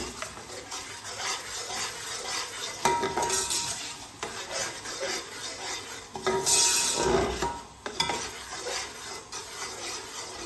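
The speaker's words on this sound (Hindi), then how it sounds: "अब आप इसकी अच्छी तरह भुनाई करें सारे मसाले को" A metal spatula stirs and scrapes spice masala as it roasts in a hot pan for aloo gobhi, with a steady sizzle broken by louder scraping strokes close by.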